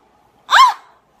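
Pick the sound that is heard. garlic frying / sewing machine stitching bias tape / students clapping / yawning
yawning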